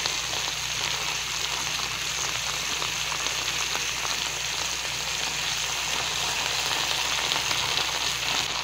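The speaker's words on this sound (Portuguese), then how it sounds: "Quero ver se eu frito de uma vez só nessa frigideira" Cassava (aipim) fries in a frying pan, a dense, even sizzle of hot oil running continuously and fairly loud throughout, with no voices.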